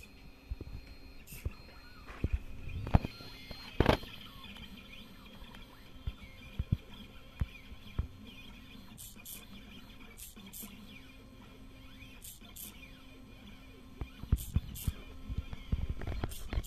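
An XY CNC pen plotter with a servo lifting the pen draws an image, giving faint whirring motor movement and scattered small clicks and taps across a quiet room, with soft indistinct voices.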